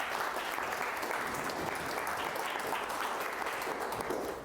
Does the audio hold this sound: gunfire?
no